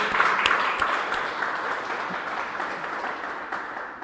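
A church congregation applauds during a Spanish-language worship service, with steady, broad clapping that holds fairly even and moderately loud for a few seconds before easing slightly.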